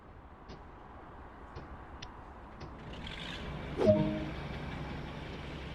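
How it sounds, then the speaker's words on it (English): A British Rail locomotive's first of two diesel engines starts up in Train Sim World 2: a few faint ticks, then a low rumble that swells, a brief clunk, and a steady idling drone. "Now that the first engine is running,"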